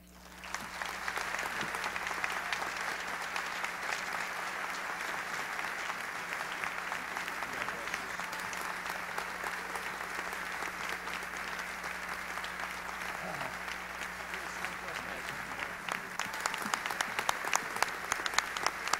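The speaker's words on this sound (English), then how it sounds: "you see them applaud, and you see them stand, and you hear the applause" Sustained audience applause at an award ceremony, a dense even roar of many hands clapping that builds slightly toward the end, heard from within the hall.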